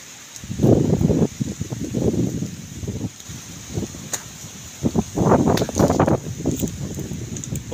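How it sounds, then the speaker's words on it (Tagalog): Gusty wind buffets the microphone in an open farm field, coming in rough bursts that swell and fade, loud and close. "Okay ngayon kasi mahangin eh."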